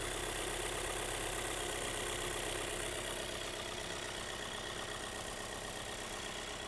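Volkswagen Caddy 2021 engine idling under an open hood, a steady, even mid-range hum with a constant rumble, close and continuous without speech.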